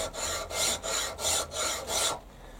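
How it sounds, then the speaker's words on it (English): A hand file is draw-filed across metal in six even, loud rasping strokes, one about every half second, before the scraping stops. "So I've been draw filing it this way"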